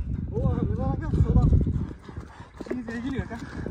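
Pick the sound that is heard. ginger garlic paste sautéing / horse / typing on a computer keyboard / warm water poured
horse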